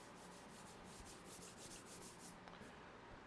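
Scratchy, close rubbing across textured matte automotive paint, a steady dry friction that continues without pause for a few seconds, with one brief sharper scrape near the end.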